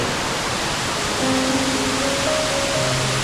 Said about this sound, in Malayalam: ഇത് ഒരു ചെറിയ വാട്ടർഫാളാണ് മൂന്ന് കട്ടുകളായിട്ടാണ് ഇത് താഴോട്ട് പതിക്കുന്നത്